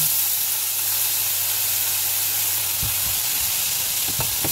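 Squid ink pasta frying in a pan with garlic and oil gives a steady, loud sizzle throughout, with a few soft stirring knocks near the end.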